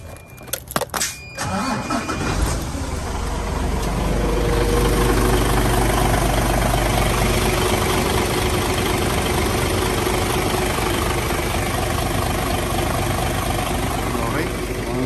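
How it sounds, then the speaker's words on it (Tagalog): A 2016 Isuzu Giga 10-wheeler wing van truck engine cranks and catches, then settles into a loud, steady low diesel idle with a rhythmic rumble, heard close up. "Marinig lang po natin ang engine."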